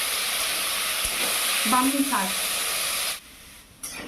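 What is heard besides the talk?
potatoes sizzling while frying in a pan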